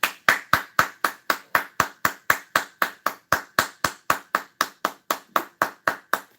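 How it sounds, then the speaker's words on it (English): Steady, evenly spaced claps, about twenty in a row, sharp and close, keep an even beat in a room during a talk given to a business audience. "Give him a round of applause"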